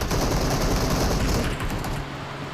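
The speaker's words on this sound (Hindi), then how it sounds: "क्या ही गंदी फायरिंग हो रही है भाई" Gunfire in the Free Fire video game: a dense, continuous barrage of rapid automatic shots overlaps into a loud, crackling fusillade that eases slightly near the end.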